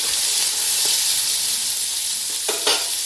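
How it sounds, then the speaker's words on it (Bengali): Potatoes and ivy gourd frying in a little hot oil, a steady close sizzle throughout with a few louder bursts of stirring near the end; no one speaks. "অল্প তেল দিয়ে প্রথমে কুঁদরি আর আলু ভেজে নেব। তেল গরম হয়ে গেছে"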